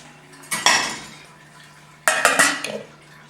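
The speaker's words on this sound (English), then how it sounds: "Pop the cover on it." A lid is set onto a pot of warmed milk during goat cheese making, giving two sharp metallic clatters about a second and a half apart, close and fairly loud, with a short ringing rattle after each.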